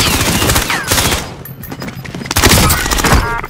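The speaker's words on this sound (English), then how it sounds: "Taking fire over here." Automatic gunfire in the Call of Duty Warzone video game: loud, rapid bursts of shots crackle at close range, pause briefly mid-clip, then resume in dense fusillades.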